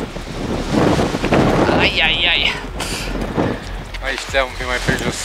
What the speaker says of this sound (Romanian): bate vântul mult prea tare